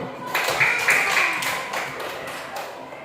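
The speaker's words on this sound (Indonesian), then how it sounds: "Oke, tepuk tangan dulu." A classroom of fourth-grade pupils claps together in a short burst during a maths lesson, with some voices mixed in over the clapping.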